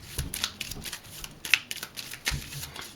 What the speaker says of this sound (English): I'll give them a good shuffle.